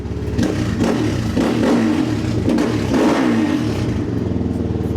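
A motorcycle engine idling and revving up close, a loud continuous rumble with rising and falling swells, no talking.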